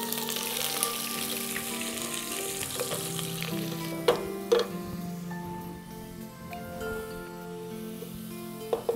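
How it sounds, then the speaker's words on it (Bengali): Chopped onion sizzles in hot oil in a pan for raw jackfruit biryani, a steady frying hiss with occasional stirring clicks and scrapes throughout. "এবার দিয়ে দেব পেঁয়াজ, সামান্য পেঁয়াজ কাটা রেখে দিয়েছিলাম।"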